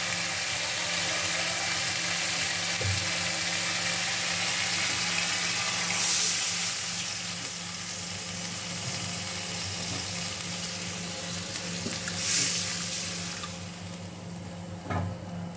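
Water poured into sizzling spices and oil in a pan for mustard hilsa curry, a steady loud hiss and bubbling frying sound throughout with faint stirring knocks.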